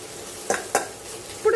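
A spoon or spatula stirs cooked rice into a frying pan for fried rice, giving two sharp scraping clacks over a soft sizzle, with a final scrape at the end.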